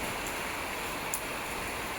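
Heavy rain pours down steadily in a village, a dense, even hiss of water filling the whole moment with no other sounds standing out.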